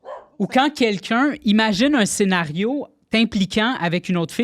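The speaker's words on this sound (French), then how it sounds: "Excusez, c'est mon chien." A dog barks in short, repeated bursts indoors, mixed in with and partly masked by lively conversational speech from a few people throughout.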